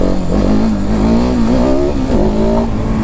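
KTM 690 SMC R single-cylinder supermoto revving hard in first gear as the front wheel lifts, a loud, close engine note wavering and climbing over about three seconds with a brief dip as the throttle is worked.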